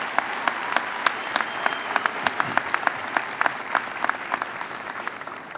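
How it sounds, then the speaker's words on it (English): Audience applause at a high school graduation ceremony: a dense, steady crowd clapping throughout, with many distinct individual claps standing out from the continuous patter. "Let's give them a round of applause."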